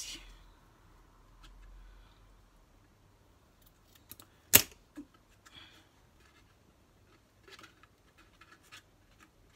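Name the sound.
cutting lace for a scrapbook cradle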